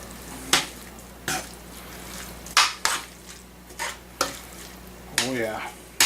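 Avocado pasta with bacon is tossed in a pan: sharp utensil scrapes and clatters land every half second or so over a low, constant sizzle, fairly close, with no talking.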